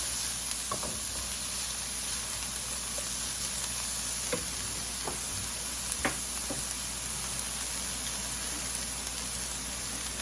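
Shrimp sizzling in a pan with green pepper and onions for egg foo yong: a steady, fairly quiet frying hiss with a few small pops and clicks, close by and with no talk.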